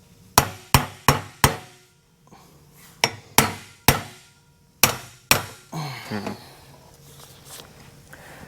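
Hammer blows ring out on hot metal from a 1960 Ford F-350 truck: sharp, loud metallic strikes in quick bursts of three or four with pauses between, ending in scraping and shuffling noise.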